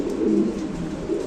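King pigeons give a low, rolling coo at a pigeon market, a close, soft, sustained murmur with a brief swell in the middle and no talking.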